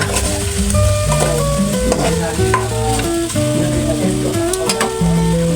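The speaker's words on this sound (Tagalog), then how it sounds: "pag nagmantika siya ilagay ko na yung bawang, sibuyas, saka kamatis saka luya" Garlic, onion, tomato and ginger sizzle in hot oil, a loud, steady frying hiss with stirring scrapes and light clinks of a pan throughout, no speech.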